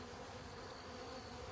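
Honey bees buzz steadily and densely during a spring hive check, a continuous close drone with no pauses or voices.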